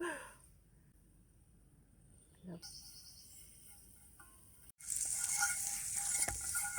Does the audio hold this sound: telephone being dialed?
no